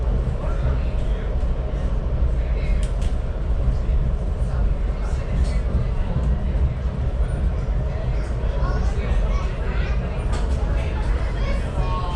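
A Tennessee Valley Railroad passenger car in Chattanooga, heard from inside while riding, gives a steady, loud rumble and rattle of wheels on track that continues without a break.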